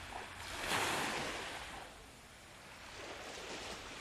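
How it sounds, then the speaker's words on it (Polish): Calm morning sea washing gently onto the shore at Sarti beach on Sithonia, Greece, a steady soft surf hiss that swells slightly then settles, with a light breeze and no voices. "Morze, jak widać z rana, bardzo spokojne."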